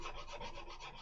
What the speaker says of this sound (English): We are getting him filed down here.